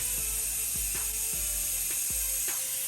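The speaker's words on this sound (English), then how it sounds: "remove all of those 3 bolts right now" A ratchet loosening bolts on the fuel pump of an 82-92 Chevy Camaro, with repeated sharp clicking strokes in a steady rhythm, close and clear over a constant background hum.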